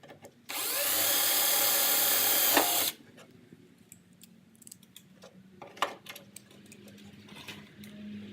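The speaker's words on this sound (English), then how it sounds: "it won't move at all to get the next hole drilled" A power drill whines steadily for about two and a half seconds while drilling holes in a BMW 2002's air dam, then stops, followed by scattered clicks, taps and handling noises.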